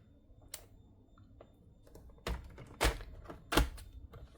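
A paper trimmer blade slices down through a stack of scrapbook paper, giving three sharp, close cutting strokes after a few softer taps and handling noises, all in an otherwise quiet room.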